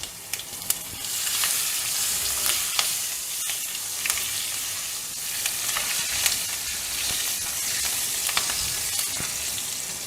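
Green chillies and asafoetida sizzle and splutter in hot oil with popping mustard-type seeds for a pumpkin subzi, a steady close frying hiss with scattered sharp pops throughout and no talking.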